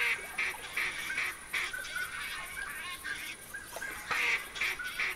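Duck calls in theHunter Classic during a duck hunt, a run of nasal quacks and honks repeating in uneven bursts over steady outdoor background noise, with no talking.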